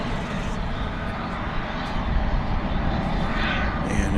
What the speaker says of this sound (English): So the flight to Santiago is finally off. It's a 7878 Dreamliner.